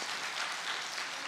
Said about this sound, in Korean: 박수 한번 하겠습니다